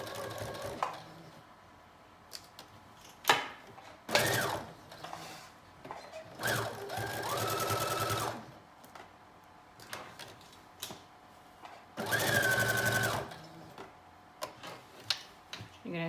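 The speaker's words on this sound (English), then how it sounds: "we're going to stitch the sides in your standard 5/8 inch" A home sewing machine stitches the side seams of a knit dress in several short, steady whirring bursts, each a few seconds long, separated by quiet pauses and small clicks.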